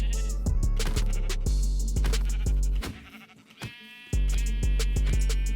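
Repeated sheep bleats from a video game, several loud, close calls in quick succession over a steady game background with no talking.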